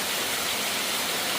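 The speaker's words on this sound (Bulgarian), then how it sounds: "тук водопада наистина доста е обилно" The Marf waterfall roars with a steady, dense broadband rush of falling water, loud and close, unbroken for the whole stretch with no voices over it.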